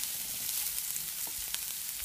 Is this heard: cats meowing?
no